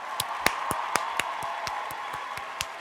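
Single pair of hands clapping at a slow, steady rhythm, about a dozen sharp claps over a faint background hum, with no crowd.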